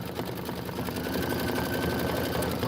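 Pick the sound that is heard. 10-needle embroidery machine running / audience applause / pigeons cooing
10-needle embroidery machine running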